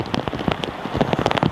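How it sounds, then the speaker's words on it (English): Heavy rain falls at Manchester Airport, pattering densely on a hood and surfaces close by, loud and continuous with irregular drop impacts and no talk. "And while I suffer in the rain."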